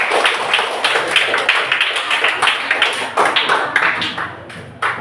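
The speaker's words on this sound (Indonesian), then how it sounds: "Terima kasih Dina, tepuk tangan untuk Dina." A classroom group claps for a student, quick, uneven rounds of hand claps that carry on steadily, then thin out and end with a final few claps.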